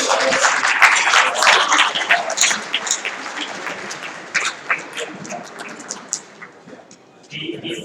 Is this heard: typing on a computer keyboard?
no